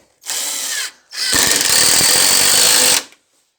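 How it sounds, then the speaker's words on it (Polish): A power drill drives screws into a wooden pallet: a short whirring burst, a brief pause, then a longer, louder rattling run that stops abruptly. "na długiej przedłużce po prostu sobie to muszę złapać wkrętami"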